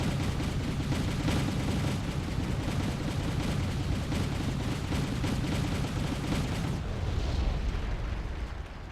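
Shilka anti-aircraft guns firing in the Wargame video game, a dense, continuous roar of rapid gunfire and booming impacts that stays loud for most of the stretch and then drops away near the end.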